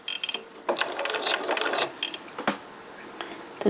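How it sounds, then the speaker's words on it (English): A sewing machine stitches through layered paper quote clusters in quick, uneven bursts of mechanical rattling and whirring, separated by short pauses, close and without talk. "Now I'm going to just be quiet for a few minutes and sew and let you watch."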